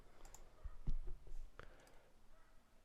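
Computer mouse clicks in a SOLIDWORKS modeling session, a few short, sharp, close clicks spaced irregularly over a quiet background.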